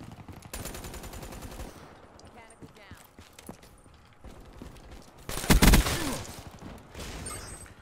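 Automatic weapon fire rattles in Call of Duty Black Ops 3, a rapid burst near the start followed by scattered shots and a loud heavy blast midway, with someone talking over it.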